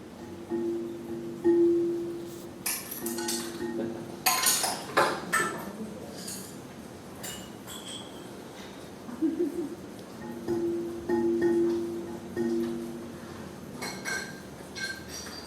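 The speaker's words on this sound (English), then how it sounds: "and then I tried to play some of the icicles." Scattered bright clinks and pings of icicles struck and ringing, with a few sharper cracking hits, sparse and irregular against quiet outdoor background.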